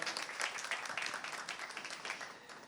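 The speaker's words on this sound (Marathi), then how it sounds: "एकदा जोरात टाळ्या आपण त्याच्यासाठी देऊया." An audience applauding indoors, a dense patter of many hands clapping together, moderately loud and tapering off over a few seconds.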